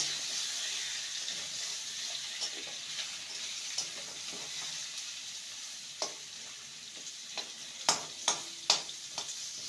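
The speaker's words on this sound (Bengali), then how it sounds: "তেলটা ভালো মতন গরম হয়ে গেছে এবার কচুগুলো ছেড়ে দেবো ভালো করে ভেজে নেব" Taro root pieces frying in hot oil: a continuous bright hiss of sizzling with occasional light pops and small clinks of a utensil, growing more frequent toward the end.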